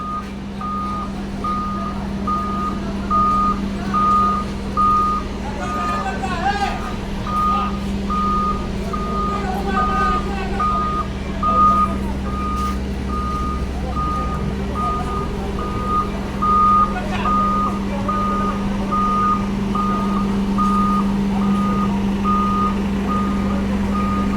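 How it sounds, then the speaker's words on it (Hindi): A machine tows a broken-down truck along a Pakistani road, its reversing alarm beeping in a steady, evenly spaced series over a constant low engine drone for the whole stretch, with no talk. "गाड़ी ख़राब हो गई थी, इसको जो है ना मशीन के ज़रिए आगे लेके जा रहे हैं।"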